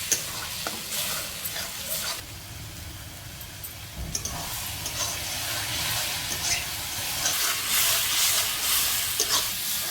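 Masala simmering with added water in a pot over a clay stove, giving a steady soft sizzle and hiss with occasional stirring scrapes, close and continuous without talk.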